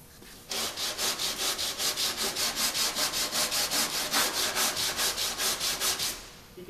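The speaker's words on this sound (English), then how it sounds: "I'm going to go ahead and finish sanding this out." Steady back-and-forth hand block sanding of hardened auto body filler with 36-grit paper, rhythmic rasping strokes about four per second, close and even, with no talking.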